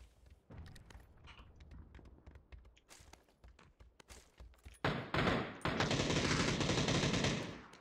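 Video game gunfire, scattered single shots and footsteps at first, then loud sustained bursts of rapid automatic fire close up for several seconds.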